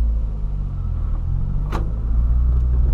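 A 2009 Ford Ka 1.0 pulls away with a steady, close low engine rumble and road drone, rising slightly toward the end, with a brief mechanical click partway through and no talking.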